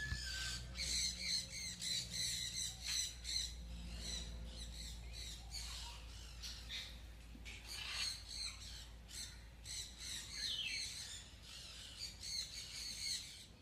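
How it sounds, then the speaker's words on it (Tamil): Green-winged macaws at a zoo let out repeated harsh squawks and shrill calls in bursts over a quiet background, with no one talking. "இப்போ நம்ம பார்க்குற இந்த கிளி வந்து பச்சை சிறகுள்ள மெக்காவ் கிளி."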